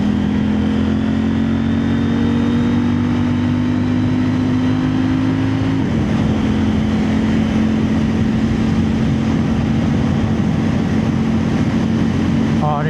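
A CFMOTO 800NK motorcycle rides along a rough, grooved road, its engine droning loudly and steadily with wind noise, pitch dipping briefly midway then holding, close and continuous throughout.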